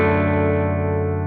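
Clean electric guitar through the Twin Reverb amp model of a NUX MG 50 Li, one sustained chord ringing out close and steady, alone without talk.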